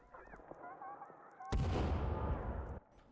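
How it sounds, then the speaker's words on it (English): A single loud grenade blast erupts in the Sons of the Forest game after a quieter stretch of ambient sound and distant calls. It holds as a rumbling roar for over a second before cutting off. "I've been holding onto these grenades a while,"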